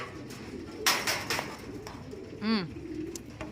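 A racing pigeon gives a low rolling coo close by, amid faint rustling and flapping.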